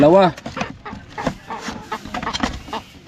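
Two chickens, one a hen, cluck in short, uneven bursts close by, with a brief rising call at the start and scattered farmyard noise throughout.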